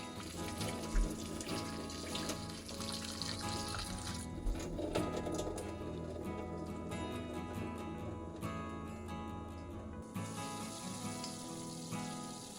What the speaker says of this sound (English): Give them a good rinse until they're completely clean and there's no white foam left.